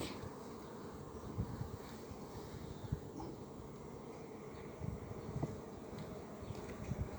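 Honeybees buzz steadily at a hive that has just resumed working, a continuous, faint insect drone with a few soft knocks and no voices.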